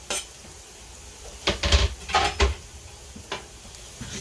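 Metal utensil scrapes and clatters against a pan while onions and garlic are stirred, a few short clustered knocks close by over a quiet room.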